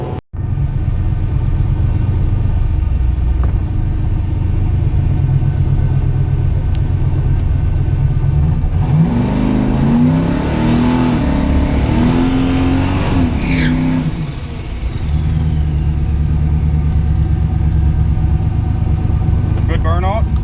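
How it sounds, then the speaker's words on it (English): Turbocharged LS-swapped Fox Body Mustang idling loud and close, then roaring into a burnout for several seconds with rising engine revs and tire noise before settling back to a rumbling idle. "Good burnout."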